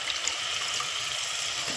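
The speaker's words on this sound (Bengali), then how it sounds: "এরপরে আমি এড করবো এটাতে একটু জল" Water is poured into a pan of frying vegetables (pumpkin, potato, Malabar spinach and chickpeas), giving a steady, close rushing and hissing wash that lasts without a break and has no talk over it.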